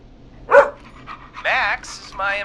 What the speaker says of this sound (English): Max is my emotional support dog.